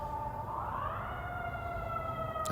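An emergency vehicle siren wails steadily in the background of an outdoor street scene, its tone sweeping upward and then holding, moderately loud against constant ambient noise.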